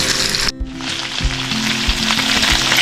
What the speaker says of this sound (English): Okay, they're frying up pretty good.